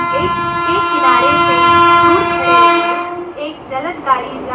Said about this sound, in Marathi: जलद गाडी पास होत आहे.